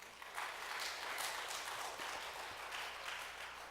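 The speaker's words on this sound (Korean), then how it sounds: "감동 오실 때는 하나님께 영광의 박수를 돌리시기 바랍니다" Congregation clapping during a church sermon, a faint, distant, sustained patter of many hands filling the room, rising after a brief quiet start and continuing evenly.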